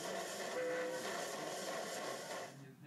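A train sound effect played from an iPad spelling app, a brief continuous rumble with a faint horn-like tone, heard up close for about three seconds before cutting off abruptly.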